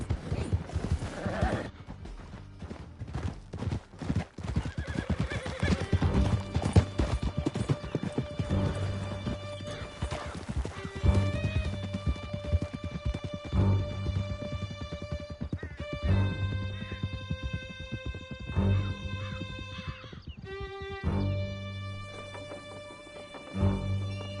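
Horses galloping across a canyon in Red Dead Redemption 2, with steady, rapid hoofbeats running throughout and occasional whinnies over a musical backdrop, loud and close.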